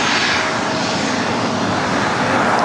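The Lufthansa Boeing 747 "Queen" airliner at LAX produces a loud, continuous jet engine roar, a steady broadband rush that holds for the whole stretch, with no talk.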